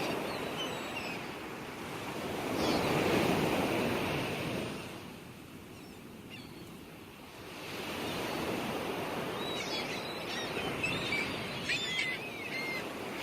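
Ocean waves surge and recede in broad, steady washes of surf, swelling louder and then easing back, with faint bird calls over the top and no talking.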